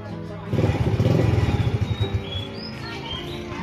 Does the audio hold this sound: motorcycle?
yes